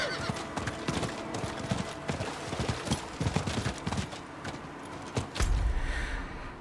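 Horse galloping in Diablo 4, steady clip-clop hoofbeats close up with a whinny, bashing through barriers during a charge, with loud game effects and impacts near the end.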